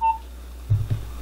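An ETSROW smart home video doorbell gives a short electronic confirmation beep after scanning a QR code during setup, a single clear tone followed by faint low thumps.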